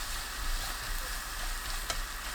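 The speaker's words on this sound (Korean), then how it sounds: "참기름 1큰술, 홍고추 넣고 1분 볶습니다." Dried pumpkin strips stir-fry with sesame oil and red chili in a pan, giving a steady close sizzle with soft scraping stir sounds and one brief crackle.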